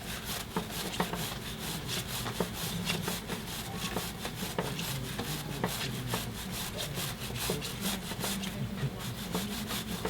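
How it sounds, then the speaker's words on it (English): A plastic hand brush scrubs the top of a motorcycle chain on a CBR, rapid rough back-and-forth strokes repeating steadily and close throughout, with no talking. "So I just scrub the top to dislodge any large particles from the chain"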